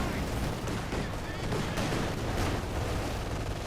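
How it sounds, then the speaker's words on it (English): An anti-tank gun fires armor-piercing rounds in a Company of Heroes 2 one-versus-one match, with loud cracks of gunfire and rumbling explosions mixed into a dense, continuous battlefield din. "I don't think they're made for shooting these kind of targets, these armor-piercing rounds"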